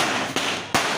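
Diwali firecrackers burst twice, about a third of a second apart, each a sharp loud bang over a steady, hissing outdoor background with no talk.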